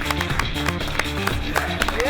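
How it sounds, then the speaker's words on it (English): A MasterChef Australia gantry crowd cheering and clapping, with brisk scattered claps under loud nearby talking. "The gantry starts cheering."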